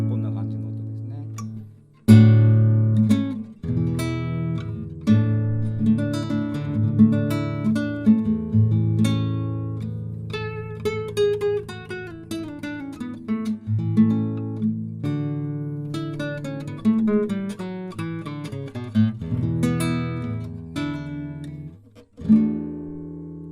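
A 1969 Rokutaro Nakade A3 acoustic guitar with a spruce top and rosewood back plays single-note melodic lines high up the neck. The tone is dry, the notes ring clearly, and the playing is close and alone.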